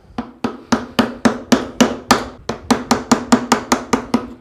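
A mallet strikes a wood chisel to cut a simple woodworking joint, about seventeen sharp, close knocks in an even, fairly quick rhythm, each with a brief woody ring, no talking.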